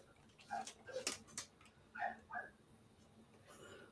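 A dog gives a few faint, soft barks and yips indoors, spaced irregularly over a quiet background.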